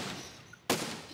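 A single sharp cannon shot in the physics building game Besiege, fired from a spring-recoil cannon on a player-built machine, a sudden loud burst after a quiet moment that decays into a lingering rumble.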